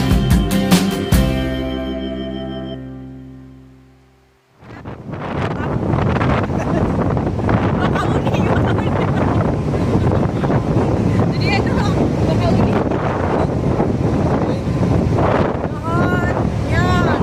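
Strong wind roars across the microphone on the upper deck of the Bakauheni ferry crossing, with the boat's low rumble and churning water beneath, loud and continuous after a brief quieter, tonal opening.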